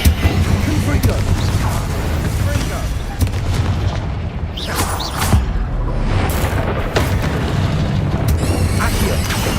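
A Confringo spell explodes in Hogwarts Legacy among other combat spells. Heavy booming blasts and crackling bursts pile up in a dense, continuous barrage, and a voice speaks over the fight.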